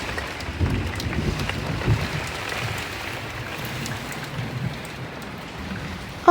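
Steady rain from Hurricane Idalia in 2023 hisses and patters close by, a continuous dense wash of drops with faint gusts of wind and no voices.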